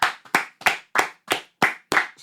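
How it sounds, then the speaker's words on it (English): Sharp hand claps in a steady rhythm, about eight of them, close and fairly loud, from what sounds like one or two people rather than a crowd. "Can I get a round of applause?"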